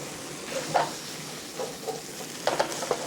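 Potatoes sautéing in a pan with butter and a pinch of salt, a soft sizzle broken by a few scraping stirs of a utensil, close and fairly quiet, with no voices.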